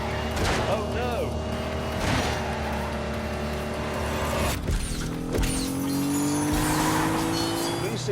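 A racing car in a video game, a Ford with a 200-horsepower V6 engine, revs and roars, its pitch climbing through gears alongside tire squeal and mechanical clatter, with brief talk over it.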